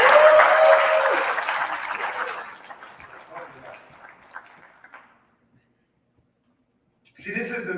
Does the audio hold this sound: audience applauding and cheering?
yes